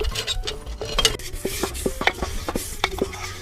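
Pots and utensils being scrubbed and washed, with repeated sharp clanks and knocks of metal dishware at close range, irregular and busy, with no voices.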